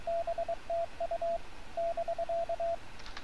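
Morse code CW characters keyed from an amateur radio: a steady mid-pitched tone beeps in quick dot-dash groups with short gaps, clear and alone over faint background hiss.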